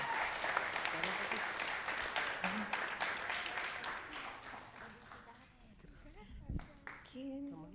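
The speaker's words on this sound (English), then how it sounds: "Will you give both of them a round of applause?" An audience at a school district board meeting claps in a brisk round of applause that thins out and fades, after which voices talk nearby.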